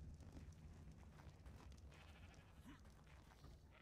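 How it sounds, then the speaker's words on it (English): Faint, distant bleating of sheep in the survival video game ARK, a soft bleat running under quiet ambient game sound, ending in a sudden sharp sound. "The amount of fucking sheep this geezer's got going on up here."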